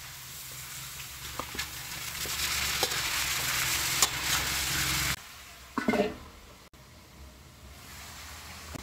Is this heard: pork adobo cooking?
yes